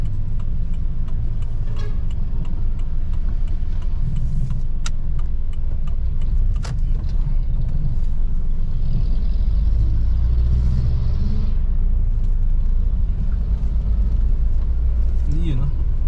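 A car engine idling and rumbling while parking: a continuous low, loud engine drone throughout, with muffled voices and small clinks above it.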